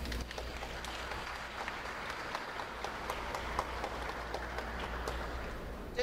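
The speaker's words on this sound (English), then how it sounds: "I think you should give yourselves a round of applause" At a Presentation College school prize day, an audience claps in steady, moderately loud applause that carries on for about six seconds, a dense patter with scattered sharper claps.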